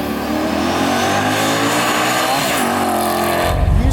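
A 700 hp supercharged LS V8 in a widebody 1974 Toyota Celica revs hard and loud, its pitch climbing and falling under heavy throttle, with a deeper roar surging in at the end.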